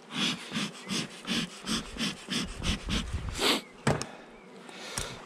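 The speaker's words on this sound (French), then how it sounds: "Désolé, je renifle" A person sniffling repeatedly, a rhythmic series of about a dozen close wet nasal inhalations, followed by a couple of sharper sniffs and a brief knock, with no speech.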